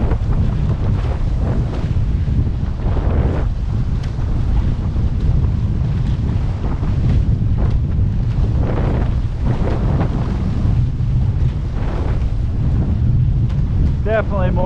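Strong wind buffeting the microphone while a Hobie catamaran sails during a winter race, a loud constant roar with water wash beneath and no clear talk.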